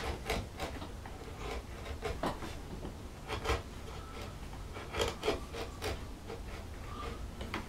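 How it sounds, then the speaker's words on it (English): A wood carving gouge cuts into a floral panel with soft, scraping strokes. The cuts come in a quiet, irregular series of close-up rasps with no voices. "I'm tipping the gouge up to just weasel out"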